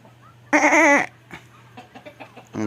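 A goat lets out a loud, wavering bleat up close at a farm, followed by scattered softer animal noises and the start of another bleat.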